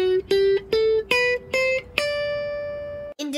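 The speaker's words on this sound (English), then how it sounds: "In ascending order, D Mixolydian sounds like this." Guitar playing a D Mixolydian scale in ascending order, six evenly spaced plucked notes climbing in pitch, the top note left ringing and fading before a short new sound cuts in.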